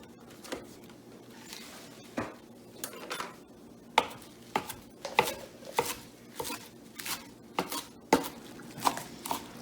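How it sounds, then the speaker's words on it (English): A knife roughly chops baby spinach on a board, giving soft, irregular thuds and scrapes that quicken into a steadier patter, close and fairly quiet. "I need to add 4 cups of baby spinach. I think I might just take a little moment to sort of rough chop some of this."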